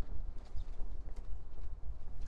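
Horse hooves clip-clop in Farming Simulator 19, a steady run of dull, closely spaced thuds that carries on throughout at moderate loudness with no one talking.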